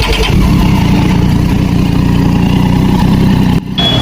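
A Triumph Daytona 675 motorcycle engine fires up and runs loud and close with a steady, throaty idle, then briefly dips near the end.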